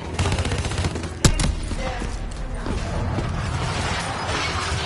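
Gunfire in the video game Call of Duty Black Ops rattles in dense automatic bursts, with a sharp, loud crack near the start, then continues as sustained battle noise and mechanical clatter.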